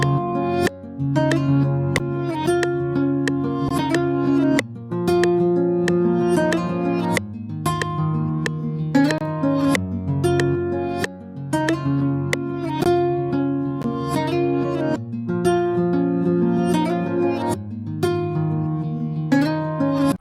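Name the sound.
reversed guitar layered with original guitar sound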